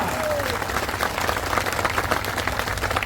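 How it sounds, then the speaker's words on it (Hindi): A large crowd at an outdoor political rally in Shadhora, Ashoknagar claps in a dense, sustained burst of applause. A voice is faintly audible underneath. "चलो बजाओ ताली।"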